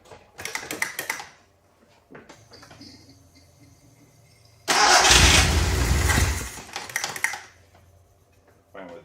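An old Alfa Romeo car engine is cranked by its starter in short bursts, then catches and roars loudly for a couple of seconds before dropping back, followed by more cranking with clicks and knocks between attempts.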